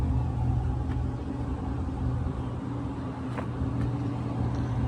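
A 2019 Chevrolet Silverado LTZ pickup with a 5.3 liter V8 idles in a steady, continuous low rumble, close and even throughout with no voices.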